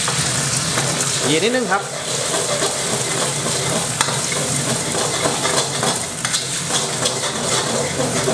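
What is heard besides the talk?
eggs stir-fried with chopped garlic in a pan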